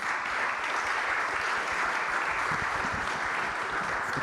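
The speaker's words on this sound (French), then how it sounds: "On peut les applaudir à nouveau." Audience applause for speakers at a conference on reducing the energy footprint of housing, a thick steady wash of many hands clapping at an even level for the whole stretch, with no voices over it.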